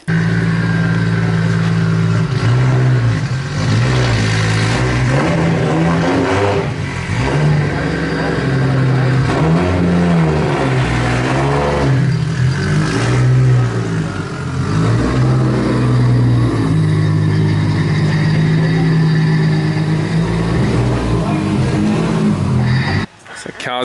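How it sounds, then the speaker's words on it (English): A car strapped to a dyno in a tuning garage, fitted with a newly installed throttle position sensor, revs hard and loud. The engine climbs and drops through repeated pulls across a long, continuous run. "Car's back on the dyno, she's all ready to go."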